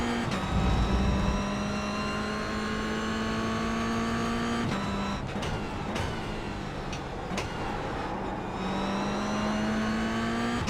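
A race car engine howls during a race, holding a steady high-revving drone with brief lifts and drops in pitch as gears change, close and continuous.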